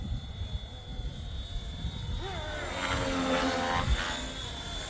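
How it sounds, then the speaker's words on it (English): A Flywing FW450 radio-controlled 3D helicopter flies nearby, its steady rotor and motor whine rising and shifting in pitch during the second half, fairly loud and alone with no talk. "this is a 3D helicopter"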